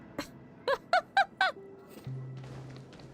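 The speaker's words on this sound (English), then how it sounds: "Okay, I hear that bird." A bird in the video game Honkai Star Rail gives four quick, evenly spaced honking calls, clear and fairly close, followed by a low steady hum and faint ambient tones.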